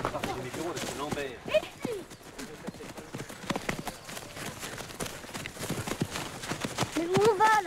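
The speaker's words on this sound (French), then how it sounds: "Ah, les chevaux." Horses' hooves clip-clop in a steady uneven rhythm on a hard surface, close and clear, with French-speaking voices talking over them.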